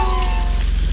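Burgers frying over a campfire in Clapham Woods, Sussex, on a rainy Halloween wild camp: a close, steady, even sizzle with faint crackle throughout, no voices.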